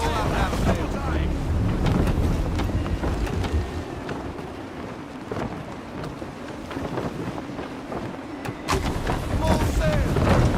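Gusty wind roars steadily across a sailing ship at sea in Assassin's Creed 3, with scattered creaks and knocks breaking through the dense, continuous rush.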